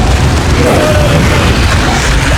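A grenade blast in the Dawn of War 2 strategy game hits as a loud, sustained booming rumble that fills the whole moment with heavy, distorted low-end noise.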